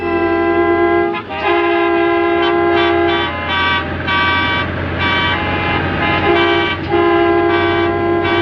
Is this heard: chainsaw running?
no